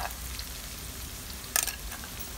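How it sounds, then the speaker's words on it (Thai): Chili and garlic stir-fry with minced pork in hot oil for a Thai holy basil dish, a quiet, even sizzle marked by a sharp, brief crackling burst near the middle, with no talking. "ใส่พริกกับกระเทียมลงไปผัดค่ะ"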